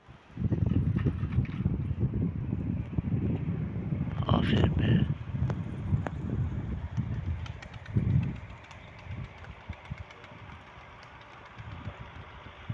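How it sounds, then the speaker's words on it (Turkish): Steady low rumble of wind buffeting the microphone, loud for most of the stretch and then easing off, with brief faint sounds on top. "Biraz böyle rüzgar şiddetini artırdı."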